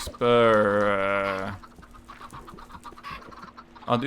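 A loud, drawn-out bird call rings out first, then softer scattered clucks and clicks of Minecraft chickens follow, with another call starting at the very end.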